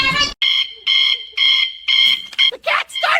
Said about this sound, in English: The cat started the alarm!